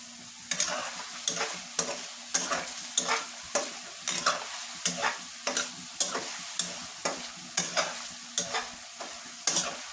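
Spicy chicken sizzles in a pan while a utensil stirs it in a steady rhythm, about one or two close, scraping strokes per second over a constant frying hiss, with no talking.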